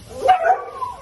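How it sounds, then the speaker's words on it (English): A few short dog yips and whimpery barks close by, rising and falling over about a second, with no talk. "Mama, let's meet some dogs."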